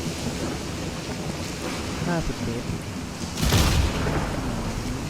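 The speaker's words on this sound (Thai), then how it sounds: "ฟ้าผ่าต้อนรับจะด้วย" A thunderclap during a lightning storm in the Stalker 2 video game bursts through a steady rain-and-wind ambience near the end, while a voice speaks briefly beneath it.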